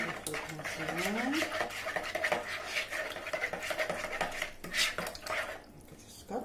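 A spoon scrapes and clinks steadily against a bowl as yeast and sugar are stirred into a dough mixture, close and fairly quiet, with a voice faintly in the background.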